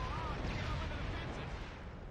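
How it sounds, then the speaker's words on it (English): Explosions in the PS2 game Naruto: Ultimate Ninja 3 rumble as a dense, continuous wash of low booms and crackling blasts, fairly faint and steady with no clear speech. "I don't like all the explosions on this pipe right now"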